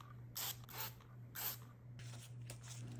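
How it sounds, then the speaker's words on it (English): Olive oil sprayed from a mister onto potato skins laid on a parchment-lined sheet pan: four or five short, close hissing bursts, evenly spaced, over a steady low hum. "I spray the outside with some olive oil"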